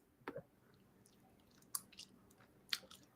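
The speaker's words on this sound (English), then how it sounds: "And look how hard she chewing the gum" Someone chewing gum hard, a few quiet, wet, snapping bites spaced apart at close range over a faint background, with no talk.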